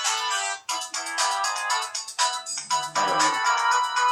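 A phone rings during a sit-down interview with a Vietnam War veteran. A loud, close, melodic ringtone plays in repeated bursts for the whole stretch, with no talking over it.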